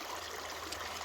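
Sunrise Creek flows near the backside of Half Dome in a steady, even rush of water, close and moderately loud with no voices.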